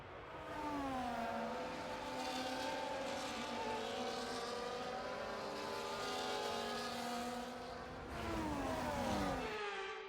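Formation-lap race cars in F1 24 drone steadily with whining engines that rise and fall in pitch, a continuous mechanical hum with a brief dip near the end.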